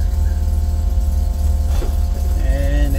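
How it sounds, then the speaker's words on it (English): A 1974 Mazda RX4 runs with a noisy fuel pump whining inside the cabin, a steady loud drone of engine and road noise throughout, with faint tonal whirs rising near the end. "And as you can notice, the fuel pump is noisy inside."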